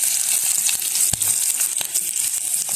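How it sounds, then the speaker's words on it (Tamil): Chopped onions frying in hot oil give a constant bright hiss with scattered crackles and a single soft clunk, no voices. "எண்ணெய் இப்போ கொதிச்சுட்டு தான் நாங்கள் வெட்டி வச்ச வெங்காயத்தை போடுவோம்."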